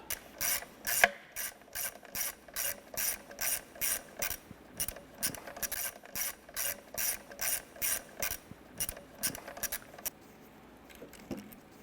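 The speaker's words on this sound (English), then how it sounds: "We're going to use our 8mm socket in our ratchet. I'm going to go ahead and loosen and remove this bolt." A hand ratchet fitted with an 8mm socket works a bolt loose on a 2008-2012 Honda Accord intake manifold, giving a long run of quick, evenly spaced clicking bursts, close and fairly quiet, with no voices.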